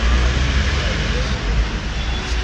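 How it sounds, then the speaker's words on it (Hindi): A helicopter engine starting, a loud, continuous roar with heavy low rumble and broadband whine, steady throughout and close by. "धूप में हेलीकॉप्टर शुरू हो गया।"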